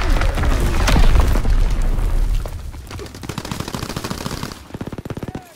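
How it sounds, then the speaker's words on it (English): Battlefield din from the video game Call of Duty WW2, with a heavy low boom of mortar fire followed by rapid, crackling bursts of machine-gun fire, loud and chaotic throughout. "Enemy mortar fire incoming!"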